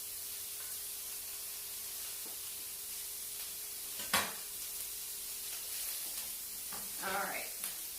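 Onions fry with beet stems in a pan during a live cooking class, a faint, steady sizzle with a couple of brief clatters of stirring.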